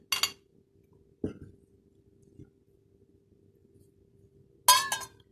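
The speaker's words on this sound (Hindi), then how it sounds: "ये मैक्रोनी ऐड की है इसमें," Boiled macaroni is added to a glass bowl for chana chaat, giving a couple of sharp, close clinks and rattles separated by quiet pauses.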